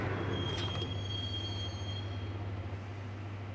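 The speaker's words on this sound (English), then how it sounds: "the train doors had already shut behind me, and I was in for the ride" A train ride in the video game Max Payne: a steady low rumble of rolling carriages with a thin metallic wheel squeal early on, continuous and fairly loud, with no voices.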